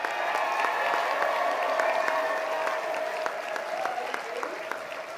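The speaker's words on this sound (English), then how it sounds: "Let's have a round of applause for all of our panelists." Convention audience applauding the panelists, a broad, even wash of clapping from a large room with a faint steady tone underneath, sustained and gradually easing.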